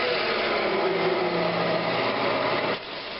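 Coarse 60-grit sandpaper pressed against a spinning pecan wood vase on a woodturning lathe, a continuous high whirring hiss with steady motor hum, close and loud, no talk.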